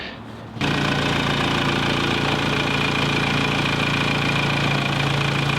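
A military-grade forklift engine, just repaired, cranks and catches after a short quiet moment. It then settles into a loud, steady, knocking idle close by.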